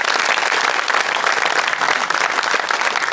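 A studio audience applauds loudly and steadily as a comedy team is welcomed onto the stage of a comedy show, a dense continuous wash of clapping from start to end.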